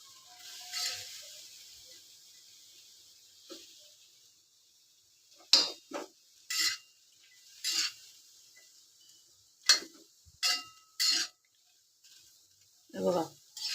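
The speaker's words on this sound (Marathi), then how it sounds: "आता 2 मिनटं याला ढवळायचं असं चांगलं, कारण खाली चिपकली नाही पाहिजे." Sweet potatoes roasting in a pan and being stirred to keep them from sticking: a faint hiss underneath, broken by several sharp, short scraping knocks of a spoon against the pan at irregular intervals, close by.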